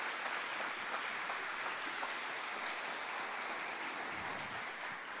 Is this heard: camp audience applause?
yes